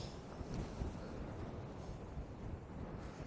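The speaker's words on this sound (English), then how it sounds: "It's very windy, the tripod I've got the camera on is trying to fall over." Strong, cold wind on Dartmoor moorland near Combestone Tor buffets the microphone, giving a steady, loud rumbling roar that runs the full length without a break and with no voices.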